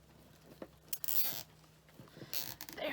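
A plastic zip tie is pulled tight on a Dollar Tree Halloween witch broom, giving quick ratcheting zips in two or three short close bursts.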